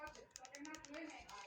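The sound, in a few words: typing on a keyboard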